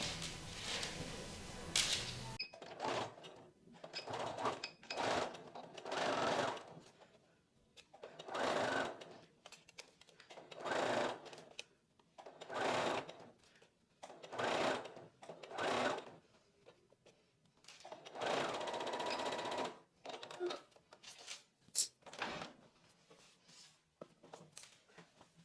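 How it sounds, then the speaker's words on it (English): A sewing machine stitches a bust cap on a wedding guest maxi dress, running in short whirring bursts with quiet gaps between them, close and clear, with no talk. "I'm first gonna do one bust cap, then once we have sewn this, then we can do the other bust cap"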